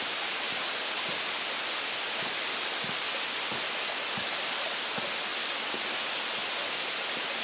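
Waterfall in a small pocket of rainforest along a creek, a loud steady broadband roar of falling water with no pauses and no talk.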